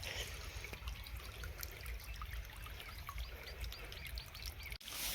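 Faint trickling water flows steadily into a field, with soft bird chirps scattered in the background and a brief thump near the end.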